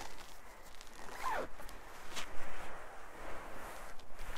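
A zipper on a small hammock's membrane is drawn closed in a close, rasping pull, followed by several shorter zips and fabric rustling.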